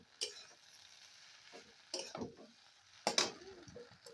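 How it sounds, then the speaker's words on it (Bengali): A spoon stirs Maggi noodles and masala in a pan in three separate scraping strokes spaced about a second apart, quiet and close, with near silence between. "ম্যাগিটাকে নেড়ে নিচ্ছে"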